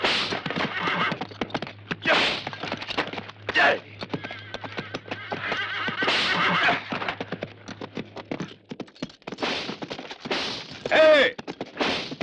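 A horse whinnies several times over a steady patter of hooves in a 1973 western film, with shouting voices and scattered background noise throughout.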